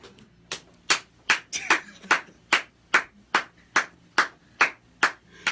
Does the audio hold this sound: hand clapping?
yes